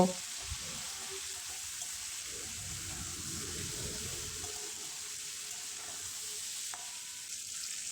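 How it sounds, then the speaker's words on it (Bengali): Thinly sliced flat beans and potatoes fry in a pan with a soft, steady sizzle and some low scraping at the start, fairly quiet and continuous throughout. "সিম আলুটা আমি প্রায় তিন মিনিটের মতো ভেজে নেব"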